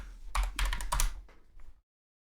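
Quick keystrokes on a computer keyboard, a short flurry of close, crisp clicks lasting about a second and a half before stopping into silence.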